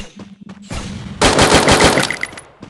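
Loud automatic gunfire in a shooting video game: a rapid, close burst of machine-gun shots lasting over a second, preceded by a short stretch of softer sounds and a faint voice, then fading out.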